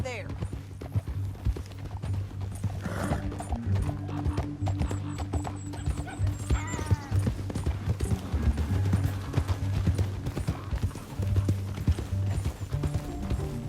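Horse hooves clip-clop steadily at a trot in Red Dead Redemption 2, amid game music and effects, with a horse whinnying and voices speaking over it.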